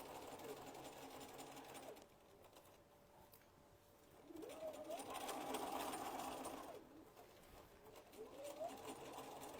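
A household sewing machine stitches along the bottom edge of a gardening half apron in two sustained whirring runs separated by pauses, close and fairly quiet.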